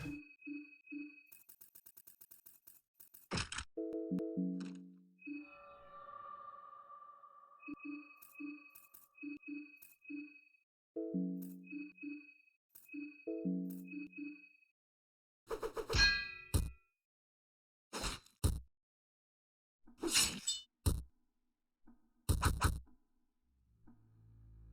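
A wrench tossed in the horror game Fear and Hunger 2: Termina, heard as sharp metallic clangs and dings that ring out in several separate bursts between quieter menu-like tones, with no voices.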